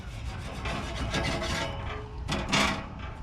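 Stainless steel grill grate scraped clean after smoking spare ribs, a harsh continuous rasping scrape with uneven strokes and a louder burst near the end, close and fairly loud.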